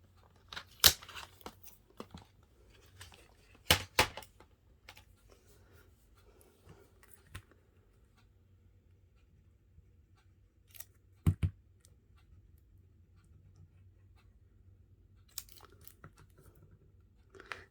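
Scissors or a paper trimmer cut a paper strip for a handmade card, giving a few sharp, close snips and light paper rustles separated by near silence, quiet overall.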